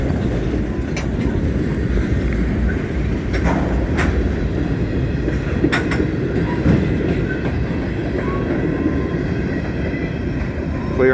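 A CSX freight train with a DODX caboose on the end rolls steadily through a station in Massachusetts on a cold early morning, giving a loud continuous rumble with rhythmic wheel clicks over rail joints.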